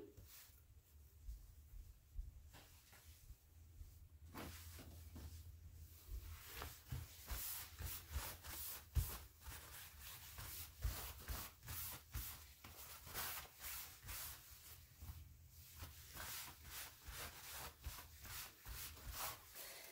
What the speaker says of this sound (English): Now dry the banana leaves one piece at a time.